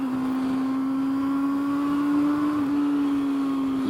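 Honda CB400 Super Four 2022 inline-four motorcycle engine revving up as VTEC engages, a strong, steady high-pitched engine tone held loud and close with no speech.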